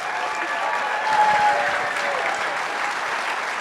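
An audience at a Pecha Kucha presentation night in Dayton applauds after a talk, a dense, even roar of many hands sustained throughout, with faint voices mixed in.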